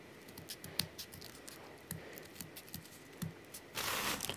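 Scissors snipping through folded paper in a run of small, quiet crisp cuts at an uneven pace, close by, ending in a brief louder rustle of paper being handled.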